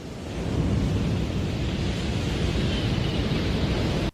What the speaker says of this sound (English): listen to the sound of ocean surf, the sound of natural power